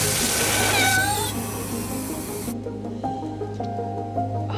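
A cat meows a few times with a rising, wavering cry over a steady low hum, followed by fainter clattering and softer sounds.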